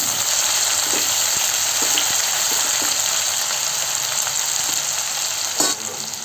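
Chopped tomatoes go into onions frying in oil for a prawn biryani, producing a loud, continuous close-up sizzle with faint stirring clatter and a brief sharper burst near the end.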